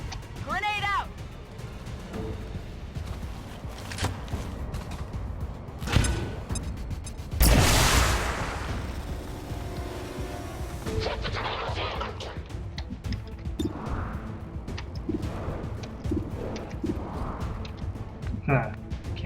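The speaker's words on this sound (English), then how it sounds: "Grenade out!" A grenade detonates in the video game XCOM 2, a loud burst about midway through, set against game sound effects and a steady backing score while a person talks over the action.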